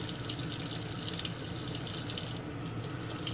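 Tap water runs steadily over metal parts of a Remington 1858 black-powder revolver, rinsing off powder residue in a sink; a continuous close hiss and splash with no talking.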